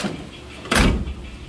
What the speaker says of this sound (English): What's really weird is the doors are kind of quiet now.